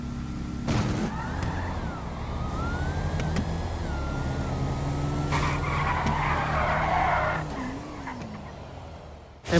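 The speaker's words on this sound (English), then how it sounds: "M3 spins the tires off the line." A BMW M3 drag car spins its tires off the start line at a no-prep street race night, loud screeching wheelspin and engine roar rising over a steady rumble, then fading before a sharp final burst.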